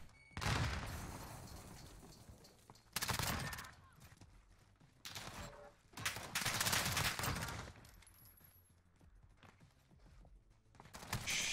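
Gunfire in a Search and Destroy video game match, with several loud bursts of shots spaced across the clip and quieter gaps of game noise between them.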